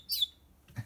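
A chick gives a single high, thin chirp up close, followed by a soft faint rustle, brief and without talk.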